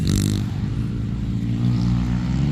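Motorcycles or dirt bikes ridden nearby in an open field, a steady low engine drone with harmonic hum holding throughout, moderately loud and continuous, with no talking.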